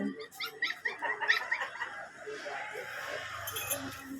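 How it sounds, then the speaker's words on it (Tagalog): A snared dog whimpers and yips in short, high-pitched bursts, fairly close, followed by a softer stretch with low background rumble. "Nasilo pala yung aso ni Ana."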